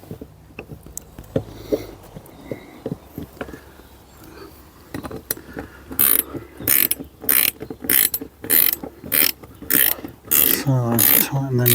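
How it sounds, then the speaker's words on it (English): Ratchet spanner tightening nuts on a Peugeot 3008 Mk1 roof rack, a run of loud rapid clicking bursts in the second half after quieter handling and brief talk earlier. "So tighten them nuts, watch as they go."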